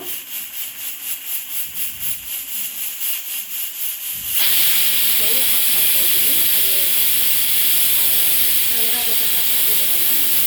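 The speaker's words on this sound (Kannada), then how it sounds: "ನೋಡಿ ಈಗ ಕುಕ್ಕರು ವಿಸಿಲ್ ಬಿಟ್ಟಿದೆ" A pressure cooker cooking biriani lets out its whistle in a loud continuous jet of hissing steam that rises abruptly partway through and holds steady, after a quieter pulsing start.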